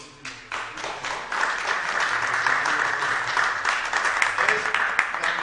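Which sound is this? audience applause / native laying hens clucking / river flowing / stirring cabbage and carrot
audience applause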